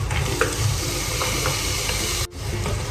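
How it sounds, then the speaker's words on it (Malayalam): Butter, tomatoes and vegetables sizzle in a hot pan while being stirred for a pulao, a steady close frying hiss with soft scraping of the spoon and a brief break near the end. "ഈ ബട്ടർ ഒന്ന് മെൽറ്റായി വരുന്നവരെ നമുക്കൊന്ന് ഇങ്ങനെ ചൂടിൽ മിക്സ് ചെയ്ത് കൊടുക്കാം."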